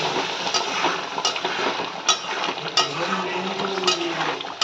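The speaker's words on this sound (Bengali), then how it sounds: "এই সব দিয়ে একটু নেড়ে ছেড়ে" A spoon scrapes and stirs through a thick curry in a pan, with fried fenugreek leaves, light sizzling underneath and several sharp clinks against the metal.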